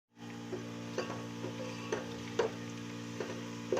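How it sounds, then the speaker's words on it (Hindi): Onions fry in ghee inside a handi for a Punjabi aloo gosht, with a low steady hum and sizzle under a series of spaced spoon scrapes and clinks against the pot, close and quiet, no speech. "ये घी में फ्राई होंगे और फिर इसकी हम भुनाई करेंगे"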